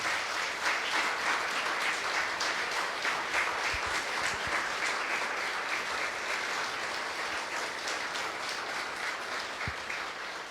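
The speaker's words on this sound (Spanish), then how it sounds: "por favor denle un aplauso a los papás con" A church congregation applauding the fathers, sustained dense clapping from a large crowd that carries steadily through and eases slightly toward the end.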